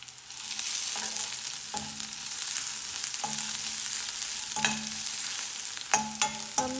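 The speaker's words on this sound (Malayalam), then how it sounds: "നന്നായിട്ട് വഴറ്റിയെടുക്കാം." Crushed garlic and six or seven dried red chillies sauté in a pan, giving a steady close sizzle broken by repeated scraping stirs, with no talk.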